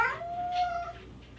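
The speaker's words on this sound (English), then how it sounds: "we have a little kitty cat that's in the way" A house cat gives a single clear, drawn-out meow close by, rising then trailing off into faint room noise.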